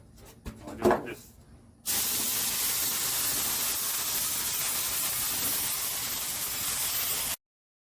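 An aerosol can sprays paint in a wide fan onto a family pet's grave marker, giving a loud, steady hiss that starts abruptly after a few light clicks and holds evenly for about five seconds before cutting off.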